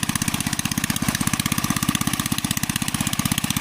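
A hand tractor engine chugs in a soft, muddy rice field with a fast, even pulsing beat, loud and close, running alone without any talk.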